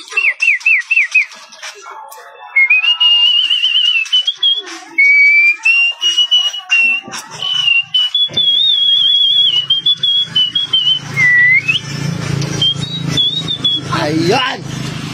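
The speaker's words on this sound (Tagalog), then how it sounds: "nakakamiss na yung sipol ko" A person whistles a wavering tune at a backyard barbecue, close and loud, with quick repeated notes at first, then long sliding tones, and rumbling traffic noise toward the end.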